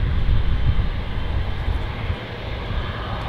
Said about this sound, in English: Got this stunning aircraft all to ourselves.